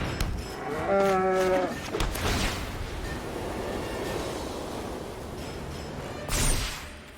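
Cartoonish cow moos from the Magic: The Gathering Arena card game, a couple of stylized lowing calls near the start over busy game sound effects and rumbling, with a brief loud burst toward the end.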